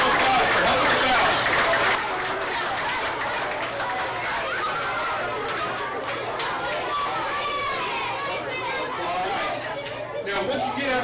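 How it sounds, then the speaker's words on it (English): Audience applause for teachers at a school safety event, a broad crowd of clapping and chatter filling the space steadily for the whole stretch, loud and continuous with no single voice standing out. "Let's give our teachers a round of applause for helping us out"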